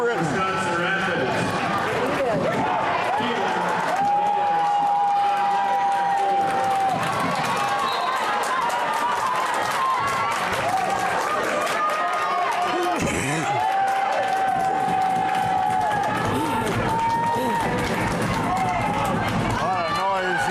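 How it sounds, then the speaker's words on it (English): Hudson crowd roaring at a high school wrestling meet, a dense, loud and continuous wall of cheering and shouting from close in front, with a commentator talking over it and a whistle sounding twice. "A lot of noise here from the Hudson crowd, which is directly in front of us."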